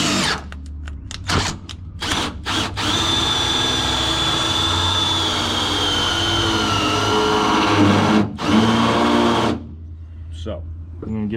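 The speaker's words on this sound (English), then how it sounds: "A really nice drill is slipping a little bit." A power drill whines steadily under a voice, slipping slightly, with short bursts and pauses at the start and a brief stop near the end before trailing off, while installing a rear camber kit on a Ford F-150 Lightning.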